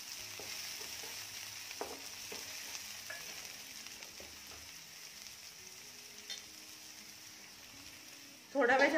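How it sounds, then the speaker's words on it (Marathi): Tomatoes sauté with onions in a pan for a cauliflower and pea curry, giving a soft, quiet sizzle broken by light stirring taps. A louder burst of noise comes right at the end. "आता यामध्ये टोमॅटो घालूया। टोमॅटो देखील परतून घेऊया।"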